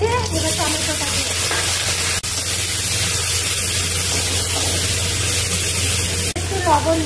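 Tomatoes dropped into hot oil tempered with five-spice seeds and dried chilli, a loud continuous close-up sizzle and spitting that holds steady, with a voice talking faintly over it.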